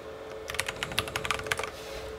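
A computer keyboard is typed on in a quick run of light, close key clicks while a password is entered, steady for about a second and a half before stopping, with no talking.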